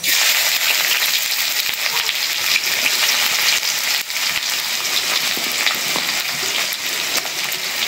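Onion and dried chili fry in hot oil with cumin, a loud, continuous hissing sizzle that holds steady throughout with no talking.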